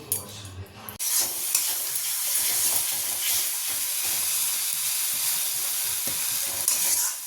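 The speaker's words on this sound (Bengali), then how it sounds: "রাতের তরকারিটা করবো বলে মশলাটা কষিয়ে নিলাম" Masala spice paste is stir-fried in a pan for a dinner curry, a loud, continuous sizzle and hiss that starts abruptly after a brief quieter moment and carries on steadily with stirring scrapes.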